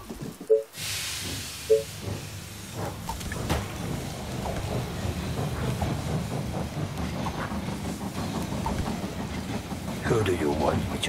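Steam train pulling into the station in the video game They Are Billions, a steady rumbling, clattering roll with hiss beneath game sound effects and a voice line.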